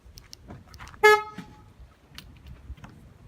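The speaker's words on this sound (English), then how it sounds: "as soon as I lock the car" A parked car gives a single short horn toot as it is locked near a beach in North Carolina, sharp and close, with quiet outdoor ambience around it.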